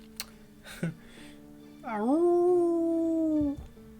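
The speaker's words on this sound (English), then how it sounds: "The howling echoes through the night" A long drawn-out howl rises and then holds steady, echoing through a night scene in the visual novel game Tsukihime, following a few brief faint noises, with soft background music beneath it.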